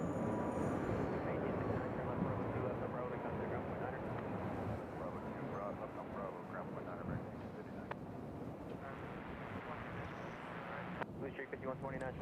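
A Dallas Fort Worth airliner arriving at Nashville International Airport, a faint distant roar of jet engines under wind and someone talking throughout.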